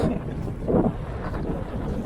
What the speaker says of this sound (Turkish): Rüzgar vuruyor ha.